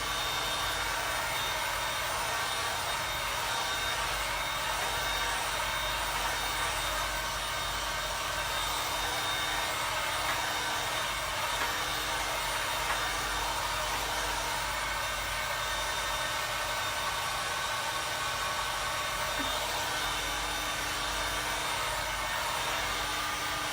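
A hair dryer blowing steadily on a painting to dry a layer of trees, giving a loud, continuous whooshing roar that holds evenly throughout with no talking.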